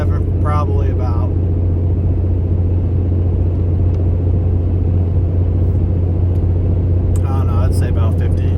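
Inside the cab of a pickup hauling an oversize load on a highway, a steady low engine and road rumble drones continuously, with brief bits of voice near the start and end.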